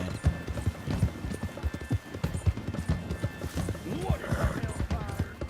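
Horse hooves clip-clop steadily through water in Red Dead Redemption 2, with splashy rhythmic steps and a brief whinny, close and continuous, while a voice talks over them.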